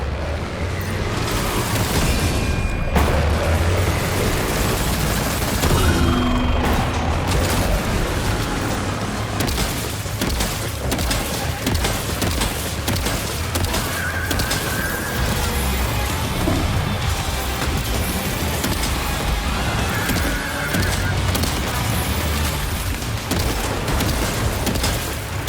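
Gunfire and explosions erupt continuously in the video game Death Stranding 2, a dense, loud barrage of booms and bursts with no talking over the battle.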